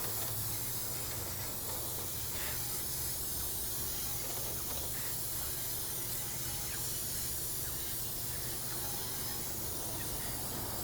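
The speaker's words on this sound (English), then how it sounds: "we're going to finish spritzing this pan out" Cleaner sprayed onto a 2009 Ford Ranger transmission pan during a fluid and filter change: a steady, close hiss of aerosol or pressurized spray running continuously throughout, with faint rattles and clanks underneath.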